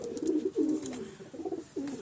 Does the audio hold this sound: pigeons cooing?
yes